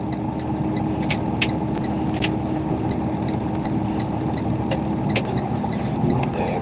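Steady broadband rumble of cars driving past on a neighbourhood street, a continuous loud low-frequency wash with faint high clicks, no voices.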